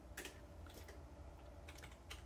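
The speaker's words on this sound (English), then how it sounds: "if you hear that tappy tap, that's just his keyboard" Someone types on a computer keyboard in the background, with faint, irregular clusters of light taps across the clip.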